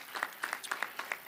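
A small crowd at the Ralph C. Wilson Jr. Park in Detroit gives the park's construction workers a brief round of applause: soft, distant, rhythmic clapping for just over a second.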